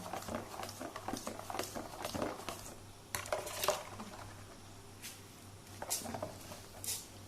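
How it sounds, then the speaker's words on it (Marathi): Cheela batter is stirred in a bowl with a utensil, giving soft, irregular scraping and clinking taps up close, quiet with short bursts spread across several seconds. "मिक्स करुया एकेच सायडीक अशें रावंड।"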